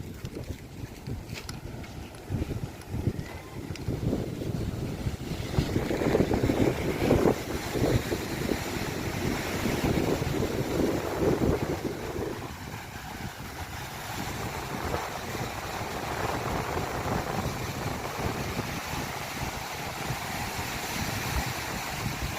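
Steady wind and rolling sea waves along a flooded coastal village after a typhoon in Camarines Sur, a continuous broad rush buffeting the microphone with no speech.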